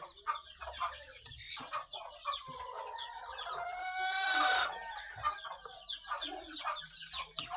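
Young chicks and stag roosters cluck and chirp busily at close range, with a brief crow-like burst midway, on a backyard Philippine chicken-raising farm.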